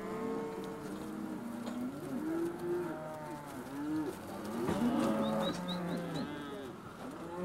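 Cattle on a Hawaiian ranch low repeatedly, several moos overlapping near and far in a steady outdoor chorus, with a few faint bird coos or calls in the background.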